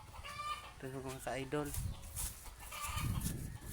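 Brooding hens cluck in short bursts nearby while someone talks over them.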